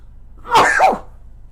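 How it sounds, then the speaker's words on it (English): A single sharp sneeze bursts out up close, a quick two-part explosive sound against near silence. "I'm going to sneeze."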